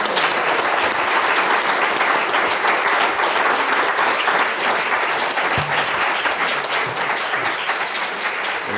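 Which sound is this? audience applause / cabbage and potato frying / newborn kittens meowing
audience applause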